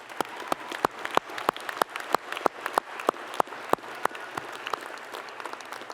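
Sparse, scattered clapping from an audience at a university honors convocation, a few sharp separate claps in a loose irregular rhythm, moderately distant and faint, with almost no talk.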